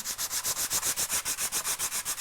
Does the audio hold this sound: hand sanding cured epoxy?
yes